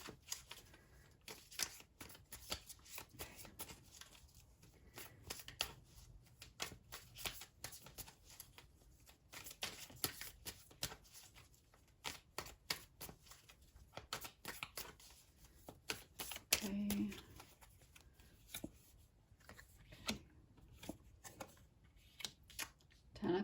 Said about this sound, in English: So I'm just going to shuffle these really quickly, and then I will lay these cards out.